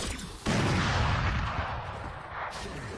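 Rapid gunfire in a competitive arena video game, a dense, continuous burst of shots that starts abruptly and keeps going loud and steady, with no talk over it.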